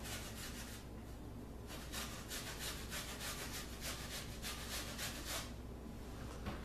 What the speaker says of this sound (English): we take apples, we peel the apples, and then again take the grater and we grate it into a bowl.